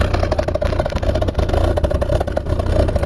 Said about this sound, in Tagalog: parang mayroon siyang paputok dun sa loob kasi pumuputok yung dulo